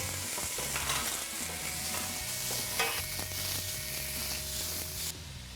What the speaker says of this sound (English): We're going to start our chili by browning a pound of beef